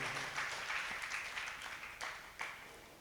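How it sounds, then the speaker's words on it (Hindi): Listeners at a Jain monk's Mangal Pravachan sermon clap together, faint and somewhat distant. The applause is a steady patter with a few sharper claps standing out, and it thins toward the end. "जोरदार बजाओ ना तालियां"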